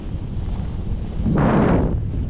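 Wind gusting against the microphone on a snowy dawn fishing trip, a steady rumbling buffet that swells louder midway through, with no voices.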